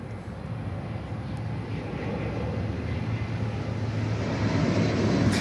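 Jet aircraft landing on runway 8 at Miami airport, a steady broad engine roar that swells gradually louder as it nears, with no voices.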